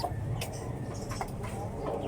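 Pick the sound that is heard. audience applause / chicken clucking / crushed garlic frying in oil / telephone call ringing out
chicken clucking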